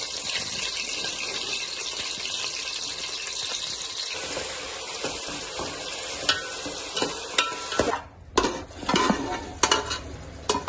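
Green chillies, onions and coriander fry and get stirred in a pan for a Telugu country chicken curry, giving a steady sizzle broken by scraping spoon strokes and clinks near the end.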